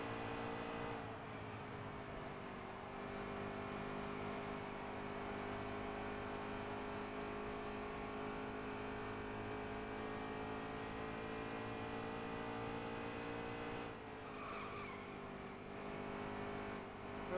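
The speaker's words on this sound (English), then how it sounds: "I really hear them tires." A race truck circles Dover in the NASCAR Heat 3 video game, a steady droning engine and tyre hum holding a constant pitch for the whole stretch, briefly dipping near the end, with no talk.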